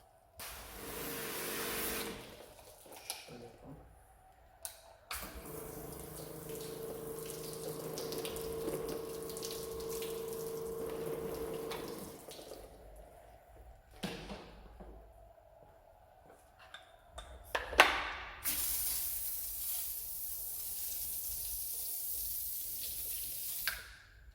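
Water hisses from a hand-pumped pressure sprayer onto a car panel being tested with Soft99 Kiwami and Authentic Premium carnauba wax, coming in steady sustained bursts with short pauses between them and no talking.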